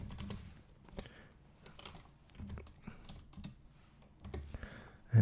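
Someone types on a computer keyboard while working on AutoCAD layers, producing irregular close clicks and key taps in short bursts, fairly quiet, with no talk.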